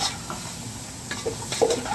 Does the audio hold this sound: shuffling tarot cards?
no